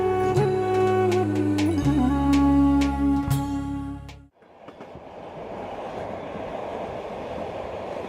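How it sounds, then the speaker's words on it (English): A train runs across the Central Asian steppes, a loud chord of horn-like tones giving way to a dense, rumbling rush of wheels and carriages rolling steadily along the track. "The train journey continues through the steppes of Central Asia"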